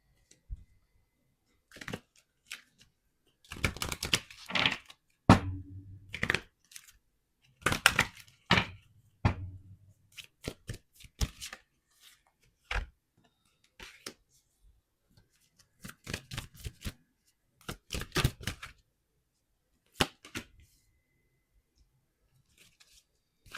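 Tarot cards shuffled and drawn during a dating reading, with sharp clicking riffles and slaps in irregular bursts, the longest flurry near the middle, all close and fairly loud without any talk.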